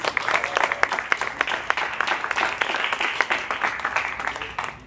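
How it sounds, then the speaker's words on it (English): Crowd applause at a ribbon cutting for a boot store in Weslaco, a steady round of moderately loud clapping from a gathered audience lasting several seconds. "Let's give them a round of applause."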